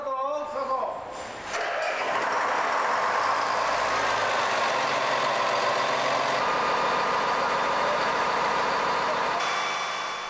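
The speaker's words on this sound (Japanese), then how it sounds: "ここでエンジンを始動。" A KiHa 47 diesel railcar engine cranks and catches during a maintenance inspection, then settles into a steady, loud rumbling idle that continues throughout, with a brief voice at the start.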